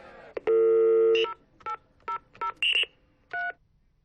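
Telephone keypad dialing on a free information line: a long tone followed by five short separate beeps of varying pitch, clear and close with no voices.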